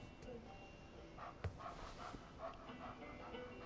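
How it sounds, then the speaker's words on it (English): A puppy in the Life Is Strange 2 video game lets out a few faint, soft yips and whimpers in a quiet scene, with voices speaking around it. "Oh, there's a puppy."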